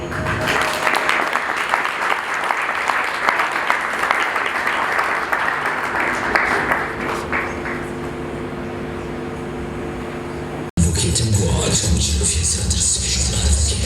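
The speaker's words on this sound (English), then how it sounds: "A round of applause goes to Mr. Manuel Mutale" Sustained audience applause at an awards ceremony, dense and loud clapping that carries on steadily, with a brief cut before the clapping resumes at full strength.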